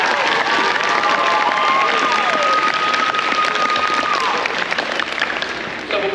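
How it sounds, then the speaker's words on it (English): An audience at a middle school band awards event breaks into loud, sustained applause with cheering, a dense crowd sound close by, and a whistle-like tone rising above it for a few seconds. "So give a big round of applause for that."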